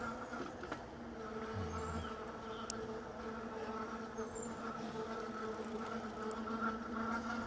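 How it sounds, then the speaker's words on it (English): Metal fenders on a bicycle rattle and buzz steadily during a long ride through a scenic forest area, a continuous insect-like drone with a faint hum underneath and no talking. "that is my fenders, I think, actually rattling, making that buzzing noise"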